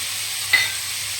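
Roti pieces frying in a pan with sugar, salt, red chili and lemon juice give off a steady close sizzle, with one light spatula tap partway through.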